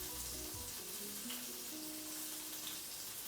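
Chicken gizzards sizzle and crackle in a fryer with a dense, steady hiss close up, while a faint tonal melody plays underneath.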